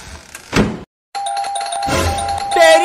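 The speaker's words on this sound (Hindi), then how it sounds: "अब बजा के दिखाना घंटी" Doorbell rings with a bright electronic chime, loud and close, following a short burst of noise and a brief silence, with faint clatter underneath.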